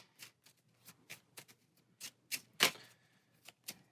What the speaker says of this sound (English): So those are getting shuffled back in.